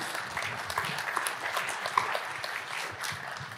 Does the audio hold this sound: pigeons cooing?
no